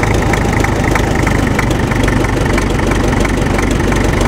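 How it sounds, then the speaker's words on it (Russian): The engine of a restored MTZ tractor idles loudly and up close with an uneven, lumpy knocking beat, holding a dense rumble that never settles into a smooth rhythm. "не поймать холостые обороты. Не поймать холостые, видишь?"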